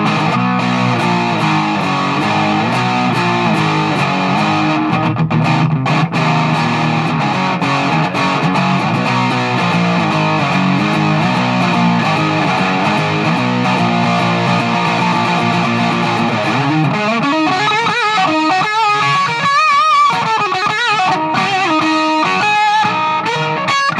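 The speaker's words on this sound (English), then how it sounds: "crank up the distortion to about 2 o'clock here" Electric guitar run through a Boss DS-1 distortion pedal on the bridge pickup, gain set near two o'clock, plays a loud, continuous, heavily saturated stretch, with bent, wavering notes toward the end.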